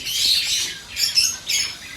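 Harsh, raspy squawks from a pigeon being handled for vaccination, three close bursts, loud and near, with short pauses between them.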